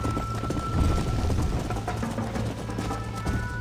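Galloping horse in the Red Dead Redemption video game, a rapid continuous drumming of hooves close up over a dense wash of game sound, with no speech.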